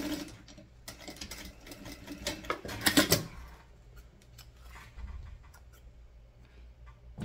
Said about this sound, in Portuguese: vocês vão passar uma costura até aqui, próximo do final do zíper